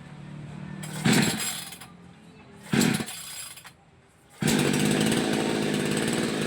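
Stihl chainsaw being started: two short bursts as the starter cord is pulled and the engine catches briefly, then it fires up and runs steadily, loud and close, with no talk.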